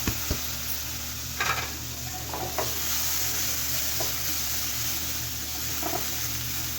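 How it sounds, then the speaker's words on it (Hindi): Lentils dry-roasting in a pan for wheat dalia khichdi, a steady faint sizzle and hiss with a few light scraping stirs and soft clinks of the spoon against the pan. "अब हम इसमें दालें डाल लेंगे, दालों की भी भुनाई कर लेंगे हम"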